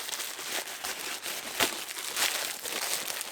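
Plastic packaging around a pack of 100 shiny vinyl record sleeves being ripped open, a close crinkling and rustling with one sharper tear partway through, no speech.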